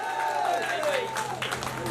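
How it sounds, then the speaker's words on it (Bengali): Applause from an audience at a Victory Day celebration at the SASEC DS-04 project, greeting a 1000-taka prize announcement; a steady wash of clapping runs throughout the short stretch with a voice over it. "হাততালি"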